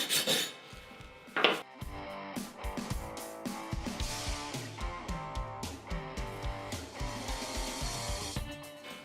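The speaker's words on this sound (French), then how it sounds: "J'utilise le marteau à piquer pour enlever le laitier et la brosse pour nettoyer le cordon." Chipping hammer and wire brush scraping slag off a weld bead from an inverter stick welder, giving repeated rasping, rubbing strokes in a steady rhythm with sharp knocks early on, close and moderately loud with no talking.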